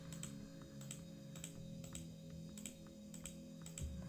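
Quiet, sharp clicks from a computer mouse repeat at an irregular pace, several distinct taps over a faint low hum with no talking.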